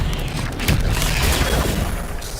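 An Expelliarmus spell cast in the Hogwarts Legacy video game, a loud, dense burst of crackling blasts and booming impacts within a brief combat moment.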